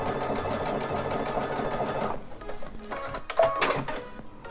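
A Baby Lock Altair sewing machine stitches a quilting seam along its projected guide beam, a steady rapid whir for about two seconds, then stops, followed by a few close clicks and clunks of handling.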